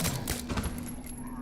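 Acid rounds fired in the Resident Evil 2 Remake video game, a dense rapid barrage of loud gunfire that fills the whole stretch without a break.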